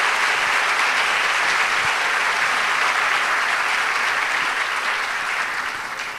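A steady, loud round of audience clapping greets a speaker arriving at an evening talk on children and parental conflict, many hands blending into a continuous wash that tapers slightly at the end.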